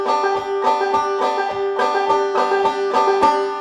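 Five-string banjo picked quickly in a rolling thumb-and-fingers pattern, the fifth string plucked with the skin of the thumb, bright repeating plucked notes played close and alone.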